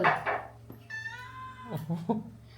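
A cat meows while it eats in a Konkan home during Shimga festival food preparations, giving one clear drawn-out meow near the middle, with chewing noises and faint background voices around it.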